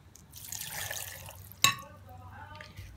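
A glass of water poured in with ginger, pear and broccoli for a bedtime drink, a soft, quiet splashing pour followed by a sharp glassy clink and light trickling.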